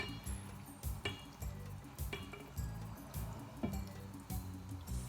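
Cooked rice for tachin with chicken being folded very slowly in a pot, giving soft repeated clinks and scrapes of a utensil against the vessel at a steady, unhurried rhythm, close by with no talk.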